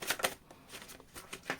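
Tarot cards being shuffled by hand in a few quick riffling bursts separated by short pauses, close and soft, with no talking.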